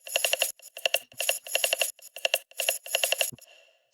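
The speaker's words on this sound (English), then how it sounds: "it's the ringing noise" Drum percussion in a drum and bass production rings with a sharp, bright metallic tone, struck in a quick repeated rhythm of loud hits that stops abruptly near the end.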